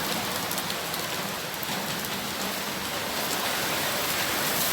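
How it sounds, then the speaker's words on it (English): Heavy rain pours steadily on an evening, a dense, constant hiss of drops striking surfaces close by, loud and unbroken with no voices. "this is raining real heavy"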